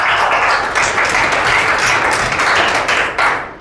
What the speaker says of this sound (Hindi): आप सबने तालियां बजाई